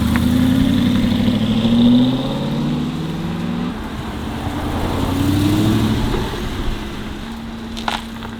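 Manual sports car engine on a drive, loud and close, revving up through rising and falling pitch sweeps as gears change, then settling into a steadier drone with a few small bumps near the end.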